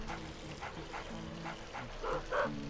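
A dog in the Luigi's Mansion video game makes short repeated yips and whimpers over a steady game music background, with a couple of louder bark-like bursts near the end.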